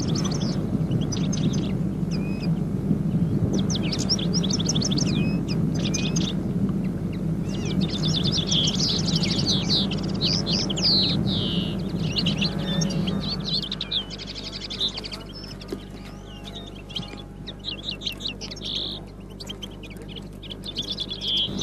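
Goldfinches chirp in quick, bright bursts of high twittering, close and fairly loud, over a steady low hum. The calls thin out and grow sparser toward the end while the background drone shifts lower.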